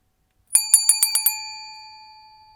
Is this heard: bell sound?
yes